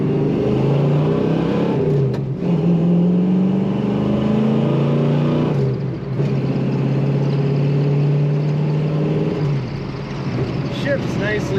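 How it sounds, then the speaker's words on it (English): Exhaust of a 1966 Ford Mustang coupe with a four-speed manual, droning steadily while driving, with pitch climbing during acceleration and dropping at gear shifts, someone talking over the engine throughout. "Nice aggressive sounding exhaust on this car."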